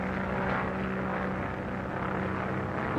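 A propeller aircraft flies overhead, a steady, loud droning engine roar that stays constant throughout with no voices.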